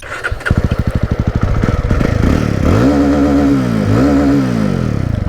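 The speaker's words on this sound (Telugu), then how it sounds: "మళ్ళీ ఒకసారి ఎగ్జాస్ట్ నోట్ వినిపిస్తా వినండి." A 2024 Jawa Classic 350 motorcycle revs up close, its exhaust note moving from a loping, thumping idle into repeated loud throttle blips that rise and fall over several seconds.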